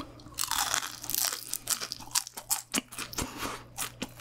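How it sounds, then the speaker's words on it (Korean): Loud, crisp crunching close to the ear as someone bites into and chews fried shrimp and noodles, a rapid series of sharp crackly bites. "새우랑 소면 튀긴 걸 먹으니까 더 바삭하고 더 고소해요"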